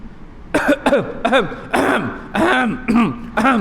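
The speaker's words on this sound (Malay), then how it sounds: "Oh, batuk dah panjang sampai kering batuknya." At a wedding ceremony, a person close by gives a run of repeated coughs and throat clearings in irregular bursts, loud with short gaps between them.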